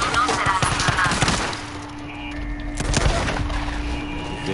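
Rapid bursts of video game gunfire, several shots overlapping in quick succession during the first second or so, then scattered further shots over a steady background of game sound.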